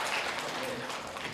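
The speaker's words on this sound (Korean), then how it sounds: "박수 한번 부탁드립니다." Audience applause at a leadership forum session after a dance demonstration, a brief dense burst of clapping with voices mixed in.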